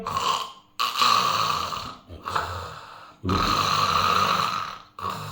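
A voice imitating heavy snoring, demonstrating obstructed breathing from obesity and sleep apnea: several loud, rasping snore cycles with short silent pauses between them, close to the microphone.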